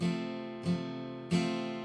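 Three strummed acoustic guitar chords from a riff ring out one after another, each struck cleanly and left to sustain, played alone at a moderate volume.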